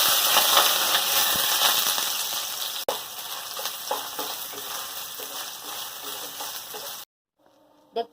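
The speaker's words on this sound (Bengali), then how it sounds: "ভিজিয়ে রাখা সোয়াবিনগুলো নিচুড়ে তেলের মধ্যে দিয়ে দেবো" Loud, steady sizzling of soaked, squeezed soybean chunks frying in hot oil, with occasional stirring clinks, then an abrupt cut to near silence.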